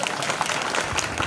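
Brief burst of crowd applause during a Gujarati live performance, a dense, even patter of many hands clapping with no pause.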